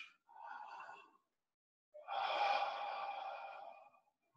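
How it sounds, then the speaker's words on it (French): Deep breathing through the mouth during a home yoga session: two long, airy breaths, a shorter one followed after a pause by a longer, fuller exhale, close and alone without talk. "tu vas simplement respirer par la bouche"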